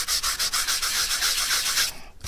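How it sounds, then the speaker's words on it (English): Cardstock is sanded by hand in quick, rhythmic rubbing strokes, a close, raspy scratching that pulses steadily and stops abruptly at the end. "And sanding it up."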